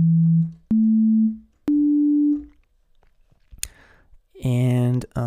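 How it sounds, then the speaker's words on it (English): A synthesizer oscillator plays pure sine-wave notes, three steady rising tones each fading out, followed by clicks and a buzzier tone with a voice near the end. "So let's start with the sine wave."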